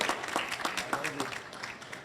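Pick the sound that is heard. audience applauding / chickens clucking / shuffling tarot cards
audience applauding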